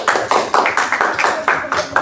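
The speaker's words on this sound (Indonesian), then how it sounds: "beri tepuk tangan untuk kelompok 1" A classroom of students claps for a student group after its presentation, with quick, evenly spaced bursts of hand claps repeating about four times a second, loud and near.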